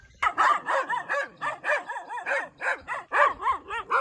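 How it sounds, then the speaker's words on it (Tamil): A dog in Himachal barks in a rapid series of about a dozen sharp, fairly close barks in quick rhythm, alone with no talking. "குலைக்கிற நாயை ஹிமாச்சலில் ரொம்ப நாள் கழித்து பார்க்குறேன்."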